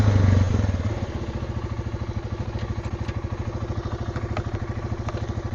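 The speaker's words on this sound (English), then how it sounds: "Really easy to reverse with the ATV." A 2019 Suzuki KingQuad 400 FSI ATV engine runs at a steady, rhythmic low throb while reversing at a boat launch, with a louder rev at the start settling into an even idle-like chug.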